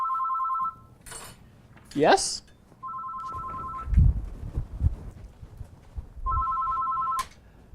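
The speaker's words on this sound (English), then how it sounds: "the phone's ringing" A telephone rings in three separate bursts of a double-tone electronic ring, with a voice speaking briefly, a whooshing sound and some clattering heard between the rings.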